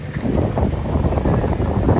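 Strong, steady wind roars and buffets the microphone during a boat ride on the sea at Kanyakumari, loud and continuous throughout with no voices.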